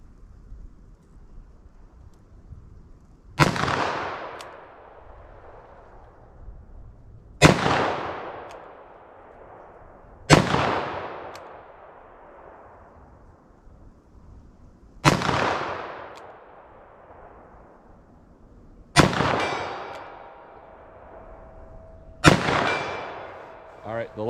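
Six loud revolver shots, fired a few seconds apart outdoors, from a .357 Magnum loaded with Hornady Backcountry Defense ammunition, each crack followed by a long echoing decay.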